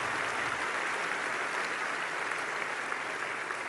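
Audience applause for Modi: steady, dense clapping from a crowd, loud and continuous throughout with no gaps.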